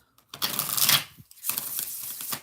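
Oracle cards are shuffled by hand in two rapid bursts of crisp riffling and flicking, close and fairly loud, separated by a short pause, with no talking.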